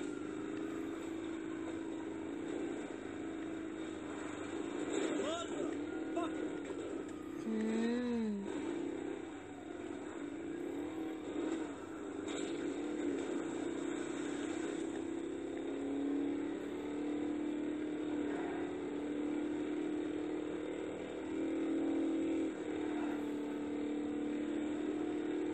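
A monster truck in the video game GTA 5 drives with a steady mid-pitched engine drone that swells and revs at moments, fairly faint and continuous throughout.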